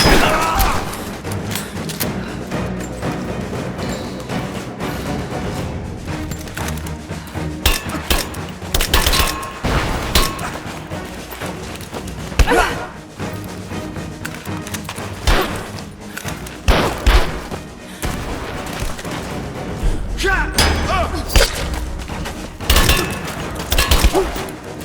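Gunfire in the video game Rise of the Tomb Raider, heavy and continuous with thumping shots and impacts packed closely together over a loud, busy mix of game sound.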